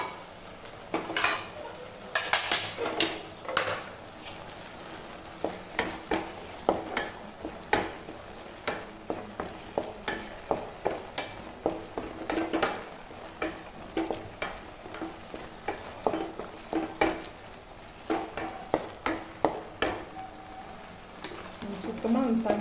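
Carrot halwa cooking in a pan at home, with repeated clinks and scrapes of a spoon stirring against the pan over a soft sizzle and bubbling, close and fairly quiet throughout.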